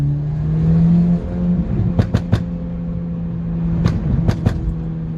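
A remapped turbocharged Mk5 Golf GTI engine drones steadily, then revs in sharp bursts with pops and bangs, several quick blips in two clusters over a low rumbling idle.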